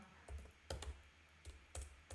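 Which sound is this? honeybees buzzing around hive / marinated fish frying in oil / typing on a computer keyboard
typing on a computer keyboard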